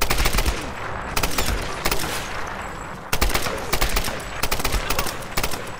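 Rapid automatic gunfire from the PC video game Tomb Raider (2013) fills the clip in loud, dense bursts with brief gaps between them.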